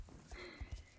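Hooves of a horse in the Star Stable online game tread through snow in a soft, steady clip-clop, a few close thuds in walking rhythm with faint voices in the background.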